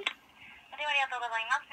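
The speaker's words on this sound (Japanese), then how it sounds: "ピザ屋に電話をかけていきたいと思います" A telephone call to a pizza shop connects, a faint line with a tone and a click at the start, then a short burst of ringback tones, heard alone.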